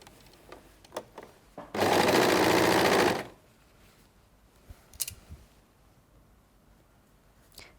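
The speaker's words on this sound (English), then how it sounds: "I'm going to switch my machine on" A home sewing machine stitching a garment collar runs in one fast, loud, steady burst of about a second and a half, surrounded by quiet handling clicks and rustles.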